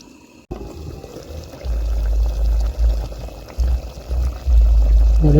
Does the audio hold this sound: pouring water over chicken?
yes